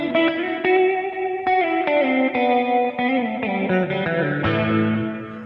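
Electric guitar run through an expression pedal set to control amp level, sustained chords ringing with effects and slight distortion, steady and close with no talking.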